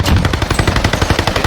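An MP40 submachine gun from Call of Duty Vanguard fires a rapid, sustained automatic burst, dense evenly spaced shots rattling loud and close for the whole stretch with no pause.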